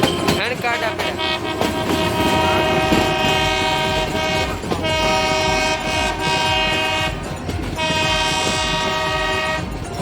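A train runs close alongside near Satadhar, its loud sustained horn blaring in long blasts over the clatter of wheels and the roar of passing cars.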